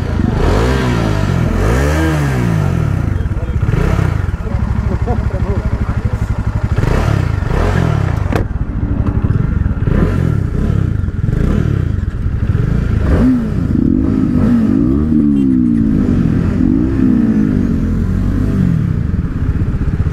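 Motorcycles drag racing, a KTM RC390, Dominar 400 and Apache RR310, roar loudly through rising and falling revs and gear changes for the whole stretch, engines wailing close by with some mechanical clatter.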